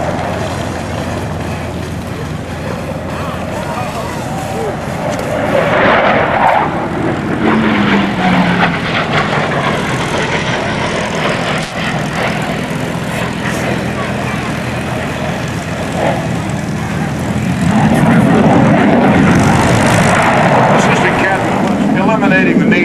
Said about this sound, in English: he'll roll inverted and do the inverted Hornet flat pass